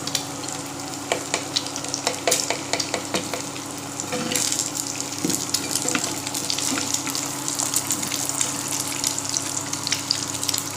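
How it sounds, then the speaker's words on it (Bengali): A cracked egg frying in a pan for a scrambled egg dish to go with Maggi noodles, giving a steady crackling sizzle with frequent sharp pops and some running-water sound in the background. "ডিমটা একটু ভালো করে ভাজা হোক"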